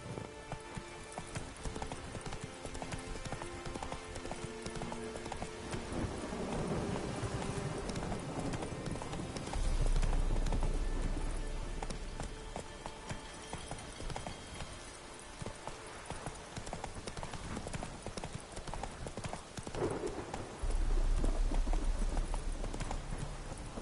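Horse hooves clip-clop at a gallop in the Witcher 3 video game, a steady rhythmic pounding across the whole stretch with brief whinny-like bursts and background game sounds.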